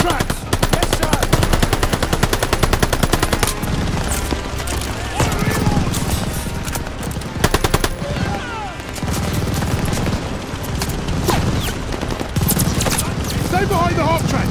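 Machine gun fire pounds through a Call of Duty: Vanguard battle in Operation Tonga, France 1944, with continuous rapid bursts and heavy gunshots, close and loud, while soldiers shout over the din.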